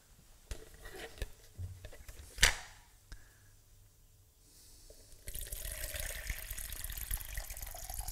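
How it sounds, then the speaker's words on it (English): Tap water running and pouring, adding about a liter of water while making healthy brown bread in a kitchen; a steady broadband rush starts midway and continues to the end, preceded by a few faint clinks and a brief splash. "so I'm going to take some more water"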